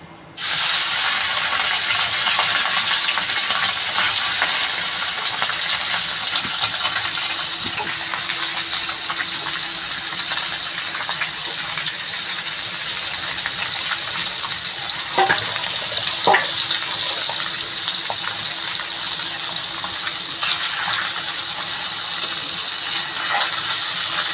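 Small fish sizzle and fry in hot oil in a heated wok, a loud continuous hiss and crackle lasting the whole time with occasional stirring knocks, close and without talk.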